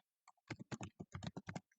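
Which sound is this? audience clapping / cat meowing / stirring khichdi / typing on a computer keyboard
typing on a computer keyboard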